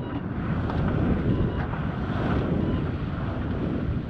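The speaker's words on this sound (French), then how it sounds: "Le vent est très stable." Steady wind buffeting the microphone aboard a sailboat during solo sailing, a continuous broadband rush with soft water noise beneath and no clear voices.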